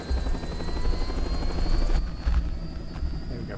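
Helicopter lifting off in the video game Metal Gear Rising Revengeance, with a loud, close rotor thump and engine whine that carry steadily through the whole stretch.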